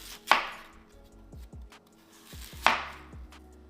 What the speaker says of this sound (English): Once peeled, just go ahead and start cutting them down the middle.